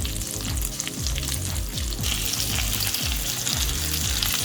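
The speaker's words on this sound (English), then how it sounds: "On this side I'm going to put in the chopped onions I cut up before." Chopped onions with salt hit hot oil in a pan and fry with a loud, dense, continuous sizzle and crackle that stays steady throughout, close up and with no voices.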